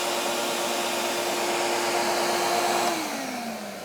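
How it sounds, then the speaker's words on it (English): A DeWalt shop vacuum runs loudly with a steady whining roar, then its pitch drops as it begins to wind down. "it's that same old loud, noisy vacuum"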